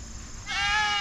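A goat lets out one loud, close, wavering bleat after a moment of quiet outdoor background noise.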